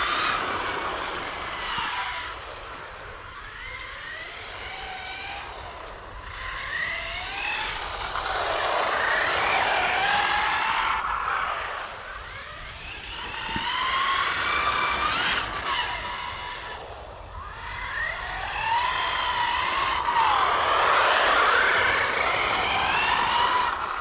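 A Losi Super Baja Rey 2 RC truck runs laps on a damp track, its motor whine rising and falling steadily as it accelerates and slows through corners, loud and close throughout.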